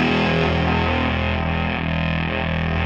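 Electric guitar played through an SM Fuzz pedal, a thick, woolly, saturated distorted tone held continuously and loud for about three seconds, close up with no talking.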